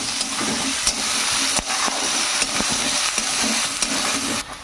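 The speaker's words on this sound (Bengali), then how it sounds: "এবার একটু লাল করে ভেজে নেব পেঁয়াজ মরিচ আদা রসুন সব কিছুতে" Onion, chili, ginger and garlic frying in oil for a chickpea greens dish, a loud, close, steady sizzle broken by frequent spatula scrapes and taps against the pan.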